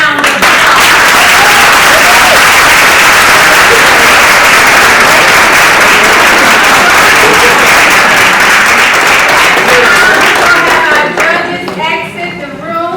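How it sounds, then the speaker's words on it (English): Loud, sustained audience applause for business owners standing before a crowd at a startup academy event, thinning toward the end as voices emerge. "you all please give them a round of applause"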